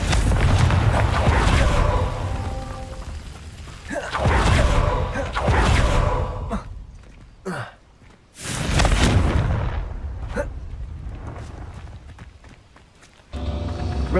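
Confringo fire spells burst repeatedly in Hogwarts Legacy, heavy booming blasts with rumbling tails, several loud explosions separated by short quieter gaps, no talk.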